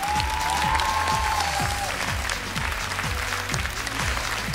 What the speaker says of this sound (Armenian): Եվս մեկ անգամ բարձր ծափահարենք Հարություն Հակոբյան,